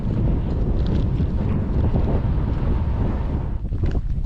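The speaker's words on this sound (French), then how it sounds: "il y a un vent très fort en ce moment" Very strong wind roars outdoors in a steady, loud, continuous rush that buffets the microphone, filling the whole stretch with dense low rumble and gusting hiss and no voices.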